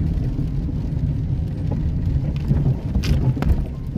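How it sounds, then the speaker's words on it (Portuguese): Rain falling on a moving car in Santa Lídia, Penha, in gloomy stormy weather, a steady broadband wash over the low road rumble of the car, growing slightly heavier toward the end. "Aumentou a intensidade da chuva."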